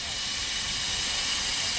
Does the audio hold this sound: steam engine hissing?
yes